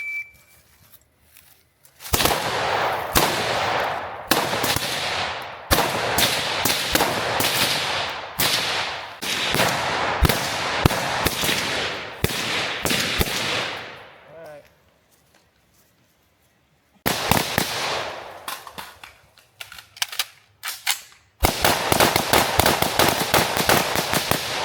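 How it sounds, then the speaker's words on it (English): Rifles fire at an outdoor shooting range: a long string of loud, sharp cracks at irregular intervals, a silent pause, then more rapid shots. "Charge the weapon, fire 5 rounds in 30 seconds."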